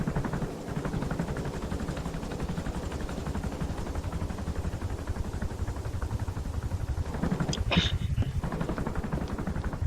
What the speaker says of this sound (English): The chopper has killed many.